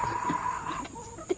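Backyard chickens cluck and squabble over grubs being fed to them, short close bursts of fowl calls mixed with busy background noise.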